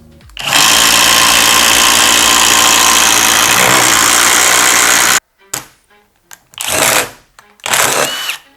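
Worcraft CIS-S20LiB cordless impact wrench run at low speed driving a 30 cm long, 9 mm lag screw, with a loud sustained hammering whir for about five seconds, then several short bursts after pauses.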